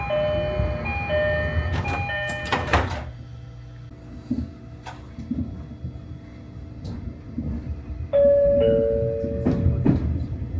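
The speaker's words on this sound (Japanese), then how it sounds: "ドアが閉まります。 ご注意ください。" A door-closing chime sounds on a Nagasaki Main Line local train: bright tonal notes ring out early, then a second sustained chime near the end, over the low rumble of the carriage.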